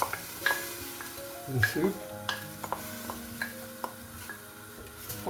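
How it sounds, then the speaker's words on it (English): Onions sautéing over a medium flame for a kale and mushroom cream soup, a soft steady sizzle with light stirring and occasional utensil taps, while a person talks over it. "I'm just going to let these onions cook out for a little while"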